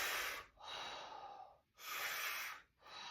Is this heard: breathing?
yes